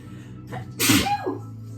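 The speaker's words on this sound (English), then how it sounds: "I'm going to sneeze." A single sharp sneeze bursts out, close and loud, with a brief intake of breath before it and quiet room tone around it.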